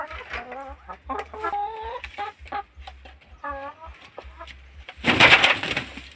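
Several backyard layer and native chickens cluck and coo close by in short repeated bursts, followed by a brief burst of rustling or flapping noise.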